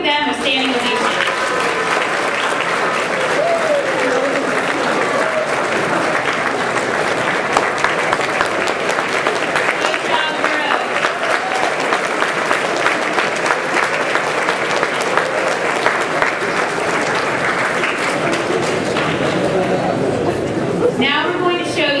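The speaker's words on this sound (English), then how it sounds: "Let's give them a standing ovation." An audience at a Southern California civic event breaks into sustained applause for a standing ovation, loud dense clapping mixed with crowd chatter that carries on unbroken before fading at the end.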